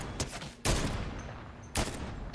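Sniper rifle shots ring out in the Fortnite video game on PS5: two sharp, loud cracks about a second apart, plus a fainter earlier pop, each followed by a short echoing tail, with no talking.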